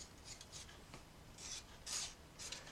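Soft, intermittent rasping strokes of sandpaper rubbing against a paper shaker card, several short quiet passes in a quiet room.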